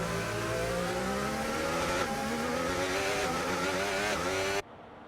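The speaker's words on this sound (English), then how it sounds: "The gearbox does not sound very healthy in these wet conditions" A race car in a wet-weather Singapore sprint in a racing video game screams along at high revs with a rough, strained gearbox, loud and steady before cutting off abruptly near the end.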